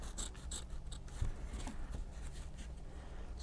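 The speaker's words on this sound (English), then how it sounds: "I hear that this foam isn't good for scissors. It dulls them." Scissors snipping through foam while a puppet is built by hand, a few crisp cuts in quick succession close to the microphone, over a low steady background hum.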